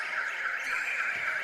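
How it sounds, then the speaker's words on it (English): End-of-game buzzer at a men's open netball match, a single sustained electronic tone sounding alone for over a second, moderately loud. "The buzzer beats him."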